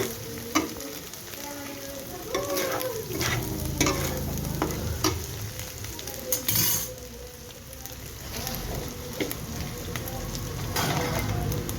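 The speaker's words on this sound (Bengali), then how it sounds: "চলুন আগের থেকে সিদ্ধ করে রাখা চাউমিনগুলো ঢেলে দিচ্ছি।" Boiled chow mein with egg and vegetables is stir-fried in a pan, giving a steady close sizzle with repeated scraping and stirring clatter throughout, and no talk.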